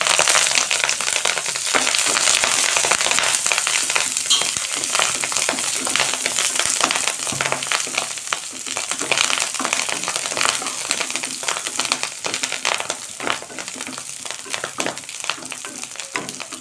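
Betel leaves being sautéed in hot oil for betel-leaf rice give a loud, steady crackling sizzle with dense scraping and crinkling stirring throughout, heard alone without talk.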